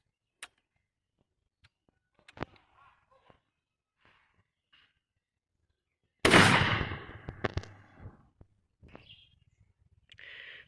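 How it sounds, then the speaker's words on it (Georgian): A single loud shotgun blast from a Fair SLX 800 with a half choke, a sharp crack followed by a rolling echo that fades over a couple of seconds, with a few faint clicks before it. "მეორე გასროლა მეგობრებო, იგივე ვაზნით"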